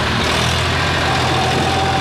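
Tractor engine idling inside a sugarcane mill, a loud, steady low rumble with continuous mechanical drone and no talk.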